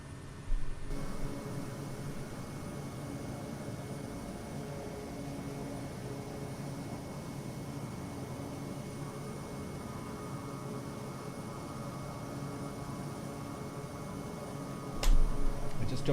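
Airplane engine in Microsoft Flight Simulator over Tibetan mountains, a steady droning hum with a faint tonal whine, continuous and even throughout, with no voices.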